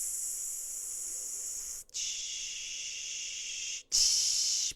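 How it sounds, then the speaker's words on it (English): Three forceful exhales are blown out during a glute stretch, each a long airy hiss through pursed lips, separated by short pauses for breath, the last one louder. "Blow the air out, blow it out, blow it out"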